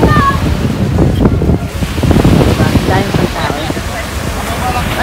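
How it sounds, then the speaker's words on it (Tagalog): Strong ocean waves crash and rush continuously with heavy wind buffeting the microphone, a loud, churning wash of surf close by. "Lakas ng alon."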